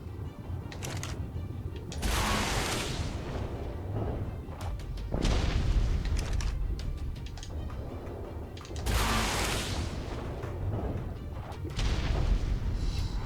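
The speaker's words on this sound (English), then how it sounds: "as you can see I am doing damage with a rocket launcher underwater" Rocket launcher fired underwater in the game Ark, with heavy muffled booms and rumbling blasts arriving in several separated waves, each swelling and fading, with faint clicks between them.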